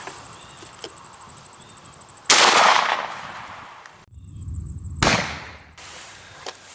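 A shotgun firing slugs at a target while sighting in, with two sharp, loud blasts a few seconds apart, each trailing off in outdoor echo against a background of insect chirping.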